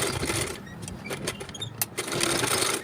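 Sewing machine stitching a blouse, running at a steady buzzing clatter close by for about three seconds, with a brief slowdown midway before picking back up.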